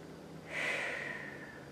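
A single deep breath, drawn in sharply and let out steadily, comes during a yoga arm stretch with the head dropped, close and soft against a quiet room.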